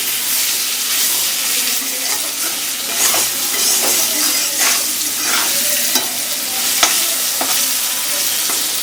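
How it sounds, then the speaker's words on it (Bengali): Parboiled, skin-on potatoes fry in a pan with a spoonful of ground onion, garlic, green chilli and pepper paste, giving a loud continuous sizzle broken by repeated stirring scrapes. "আলুগুলো আগে একটু ভেজে নিই"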